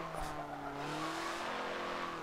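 A Ford Fiesta front-wheel-drive car pushed hard through corners, its engine droning steadily with a tone that slowly climbs as it rolls on, close and continuous with no talking.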